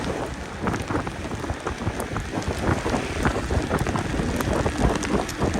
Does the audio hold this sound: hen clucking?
no